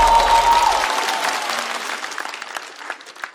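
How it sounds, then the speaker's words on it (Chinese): Audience applause at a televised stand-up comedy show, a dense burst of clapping from a crowd that fades gradually over a few seconds. "掌声欢迎孙书恒"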